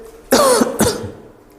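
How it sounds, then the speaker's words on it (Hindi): A man coughs twice in quick succession, loud and close, with a rough throat-clearing quality before trailing off. "जैसे देखे कि हमको खांसी आ रही है"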